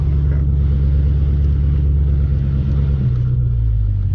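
A Dodge Challenger SRT 392 pulls away with its engine revving, a deep, steady low rumble that holds loud and close throughout, with no talking.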